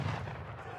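A single short, heavy boom of heavy cannon artillery fire from the Age of Empires 3 video game, loud and close with a quick rumbling decay.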